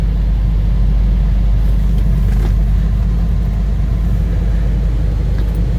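A 33-year-old Toyota 4x4 pickup with a 22RE engine runs in deep snow, giving a loud, steady low rumble close up, unbroken and even for the whole stretch.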